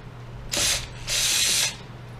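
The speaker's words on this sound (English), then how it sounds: "I know I'm using power tools." Two short high-pitched whirs of a power driver driving a screw while repairing a KitchenAid mixer, the second burst longer, separated by a brief pause against a faint hum.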